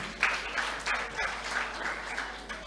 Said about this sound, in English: let us clap for him one more time